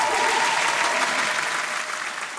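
Applause fills the space during a live Browns vs Jaguars pregame show as a dense, even wash of clapping that stays loud and fades slightly at the end.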